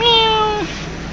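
A big calico cat gives a single close, clear meow that rises and then drops off, followed by quiet room noise.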